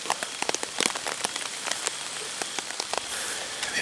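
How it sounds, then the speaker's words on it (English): Rain falls steadily outdoors in the woods during a bow hunt, a constant close hiss with scattered sharp drops pattering on nearby surfaces. "And then it started raining."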